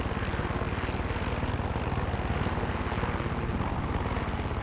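A helicopter in Far Cry 6 drones continuously with a fast, steady rotor thump, loud and close, with no voices over it.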